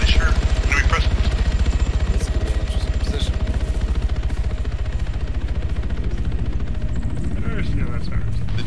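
A Mi-8 Hip helicopter comes in to land in the military game Arma 3, its rotor making a loud, steady, rapid thumping throughout with a constant engine whine on top, and a voice talking over it.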